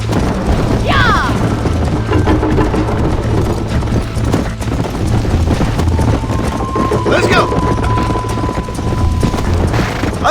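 Horse hooves pound in a steady galloping rhythm in the Red Dead Redemption video game, near and continuous, with a voice shouting over the hoofbeats and a low engine-like drone underneath.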